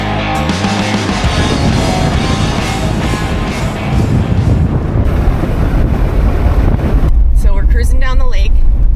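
A Jeep drives across a frozen lake in March, its engine and tyre rumble heavy and steady under strong wind buffeting the microphone. It stays loud and close throughout, and a voice speaks briefly near the end.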